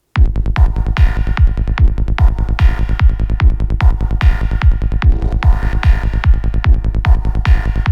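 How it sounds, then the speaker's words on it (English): A Riff MIDI pattern generator in Bitwig drives a psytrance pattern of 8th-note length, heard as a loud, steady pulsing run of punchy bass and synth hits in a fast, even rhythm with no voices. "notes created with 8th note as the note length,"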